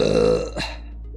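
A single drawn-out burp, loud and close, trailing off into quiet after about half a second with a faint click at the end.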